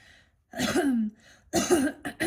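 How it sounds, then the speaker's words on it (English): A person clears their throat twice in quick succession, close and fairly loud, with a short gurgling rasp, then a brief softer follow-up. "Clearing my throat."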